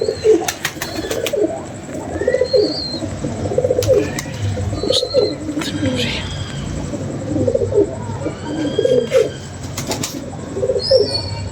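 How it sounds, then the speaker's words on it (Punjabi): Green pigeons coo in repeated low, throaty phrases at a regular rhythm, close by, with occasional wing flaps and chirps around them. "ਹਾਂ ਕਬੂਤਰ ਵੀ ਦੇਖੋ"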